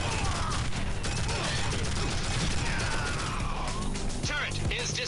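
Rapid gunfire and crashing impacts in the video game Tribes: Vengeance, a dense, continuous barrage of shots and hits, loud and close throughout, with game sounds layered on top.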